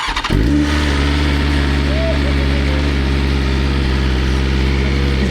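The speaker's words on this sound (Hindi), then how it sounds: "अब सुनते हैं बाइक को" A motorcycle engine fires up and settles into a loud, steady idle with a throbbing low rumble, close by, running without pause.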